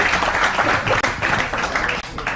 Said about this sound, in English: Another round of applause for Joe, please.